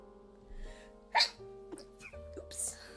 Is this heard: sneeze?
yes